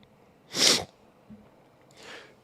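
A person sneezes once, a sharp loud burst close to the microphone, followed by a fainter sniff or breathy exhale a moment later in a quiet room.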